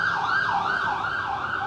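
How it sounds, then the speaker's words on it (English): An emergency vehicle's wailing siren sweeps up and down in a steady repeating cycle, fairly loud and close, sounding alone. "Sirens."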